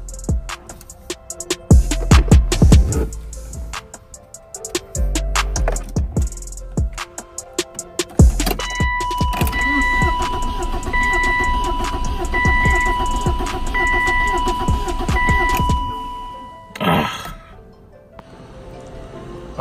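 A car that will not start is cranked repeatedly, with short bursts of starter grinding followed by a long steady crank that never catches, a warning chime beeping alongside, then a brief loud burst and quieter moments.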